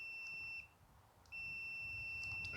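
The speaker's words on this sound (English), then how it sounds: "See if you can hear the beep." Continuity-test beeps from a multimeter probing a safety switch on a John Deere LA145 lawn tractor: a steady electronic tone that holds, cuts out briefly, then resumes and sustains, close and clear over faint background noise.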